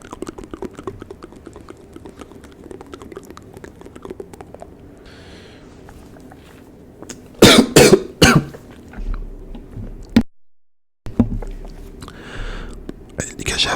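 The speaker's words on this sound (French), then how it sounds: "ça m'a fait tousser d'un coup" A man coughs in a sudden loud burst after swallowing a fly, several sharp hacks in quick succession, following soft whispered talk and light keyboard tapping, with more muffled sounds after a brief silence.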